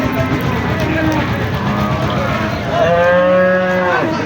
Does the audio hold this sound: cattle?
yes